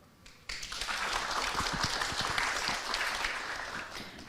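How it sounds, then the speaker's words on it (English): Audience at a business forum and awards evening breaks into applause, a sudden onset of dense, sustained clapping from a crowd that holds steady to the end. "a round of applause please for Mirela"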